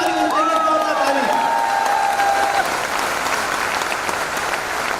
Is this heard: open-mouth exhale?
no